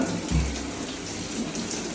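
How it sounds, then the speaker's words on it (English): Water drains from a pub urinal tank in a steady, close rushing wash, with a brief low gurgle near the start. "Why is it stopping? Because it's draining this whole tank."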